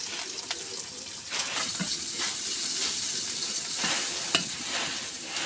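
Chopped onion fries in a pan with cumin, green chilli and garlic, making a loud continuous hiss and crackle with occasional stirring scrapes, close up and without speech.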